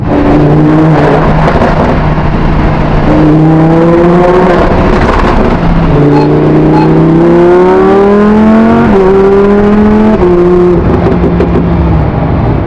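Loud, continuous revving of a 610-horsepower sports car engine, close by, with repeated rising and falling pitch sweeps as the throttle is blipped, and no voices over it.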